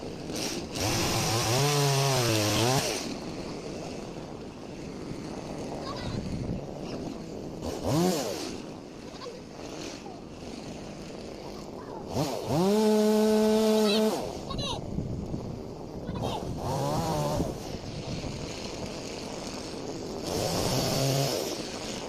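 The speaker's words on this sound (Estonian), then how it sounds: "ma võin panna siia klippi sellest, kuidas ma siin mootorsaega lasin neid maha." Chainsaw felling trees at a newly bought house's property, the engine repeatedly revving up to high whining bursts and dropping back to a rough idle, with several distinct surges of cutting spread across the stretch.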